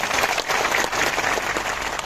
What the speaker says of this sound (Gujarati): તાળીઓ પાડીએ